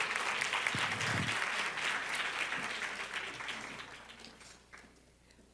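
An audience at a university lecture series gives another round of applause, a steady wash of clapping that slowly tapers off toward the end.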